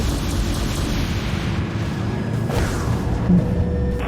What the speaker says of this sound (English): Flechettes have positive lock. Flechettes launched, Captain.